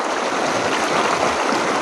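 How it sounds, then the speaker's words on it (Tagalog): A clear mountain river flowing steadily nearby, a constant broadband rush of moving water with no voices, holding an even level throughout. "Dahil nakadaan kami ng ilog, maliligo na lang muna kami."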